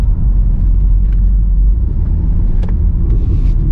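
A 2006 Chevrolet Corvette C6 V8 engine rumbles steadily while driving, a loud continuous low drone from inside the car with faint road noise and no talking.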